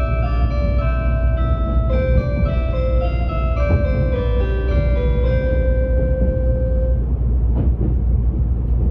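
A JR East limited express Hitachi train on the Joban Line rumbles steadily along while an electronic chime melody plays over the low rolling noise, fading toward the end.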